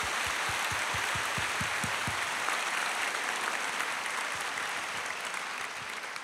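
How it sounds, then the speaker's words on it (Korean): A church congregation claps, starting with a few distinct, rhythmic claps that swell into dense, sustained applause filling the room before gradually easing off. "박수."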